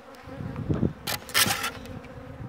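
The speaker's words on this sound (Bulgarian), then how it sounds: "Тук се намират, тук е пчелата." Honeybees hum in an open hive during a spring inspection, a close, steady buzzing that swells in louder bursts as frames are handled, with no talking.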